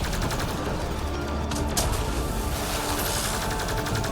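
Rapid turret fire hammers away nonstop in Mass Effect Andromeda, a loud, dense stream of automatic shots with little break.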